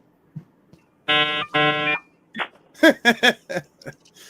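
A voice imitates a dial-up modem that never connects, producing two long buzzy tones followed by a quick series of warbling, chirping bursts.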